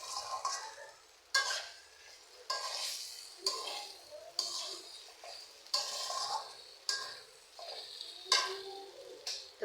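Beans being stirred and fried with spices in a pan, with repeated scraping and clinking strokes of a utensil over a soft sizzle, steady and fairly close, no talk.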